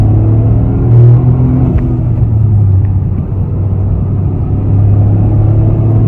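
A 2023 Toyota GR Corolla Core Edition engine runs loud and close, with a steady deep rumble and only slight swells in pitch rather than a sharp rev, and no voices over it.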